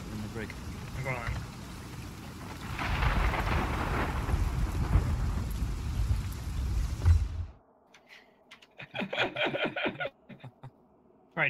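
A thunderstorm in the pirate video game Sea of Thieves: a loud, steady roar of heavy rain with low rumbling thunder for about seven seconds, then it cuts off abruptly to quieter, intermittent sounds.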